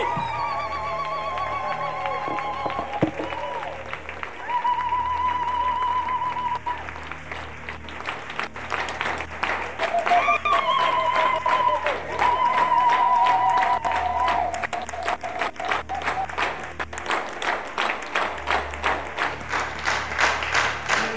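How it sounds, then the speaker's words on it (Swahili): A church congregation at a lunch hour service claps and applauds continuously, with dense, loud rhythmic clapping throughout and a sustained keyboard tone and voices above it. "I wonder kama uwezi mpigia Yesu makofi ambaye uvimbe Kakamega ametoweka jamani."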